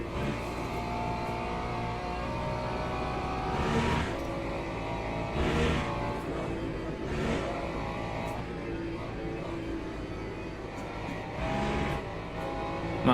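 A Ferrari race car in the sim racing game Le Mans Ultimate drives hard over curbs, its engine a steady, loud drone with repeated rising swells and rumbles as it runs along the kerbs, no one talking.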